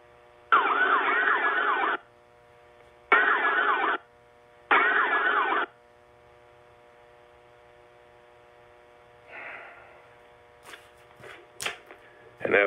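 Emergency vehicle sirens played back from a recording, three loud wailing bursts of about a second each, then quieter scattered noises and clicks toward the end, with no talking.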